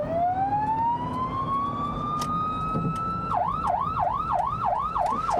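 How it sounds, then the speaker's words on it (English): An ambulance siren passes on a road near an emergency scene, first a long rising wail that holds steady, then switching to a fast repeating yelp, loud and continuous over traffic rumble. "Oh, there goes ambulance,"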